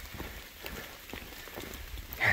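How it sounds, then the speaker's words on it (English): Rain falling on a tent on the Appalachian Trail, a soft, steady patter of scattered drops tapping a taut surface, low and even throughout with a faint rise at the end. "I got set up in the rain. It's always raining."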